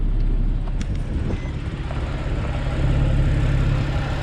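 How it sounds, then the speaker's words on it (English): A white Porsche 911 Targa 4S of the 997.2 generation, with a 3.8-litre direct-injection flat-six in the rear, runs at a steady idle. A deep, continuous rumble comes from close by, with no speech. "Sounds beautiful, sounds exactly how a classic flat 6 Porsche should sound"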